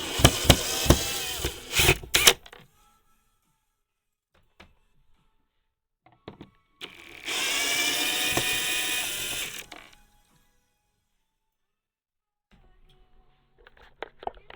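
A power drill whirs for a few seconds while removing screws from the bottom of a Power Wheels toy car, after some ratcheting clicks and rattling, with quiet gaps in between.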